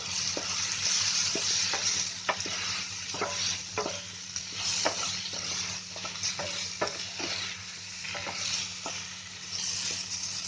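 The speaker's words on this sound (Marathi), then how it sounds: "आता त्याच्यामध्ये बटाटे टाकते. असे बटाट्याचे तुकडे करून घ्यायचे." Potato pieces frying in a pan, a steady sizzle with repeated scraping clicks of a spoon stirring them, close and without talk.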